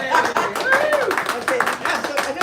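Audience clapping for a folk singing group at a music festival in a warehouse venue, steady hand claps running throughout with voices and laughter mixed in over the top.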